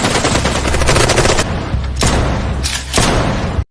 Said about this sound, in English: suddenly, there's the sound of gunfire.